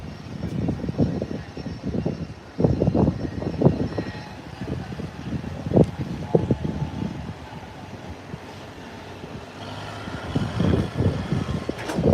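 A Delta airliner taxis toward the runway, its engines a low rumbling drone that swells and fades in uneven waves, heard from a distance outdoors.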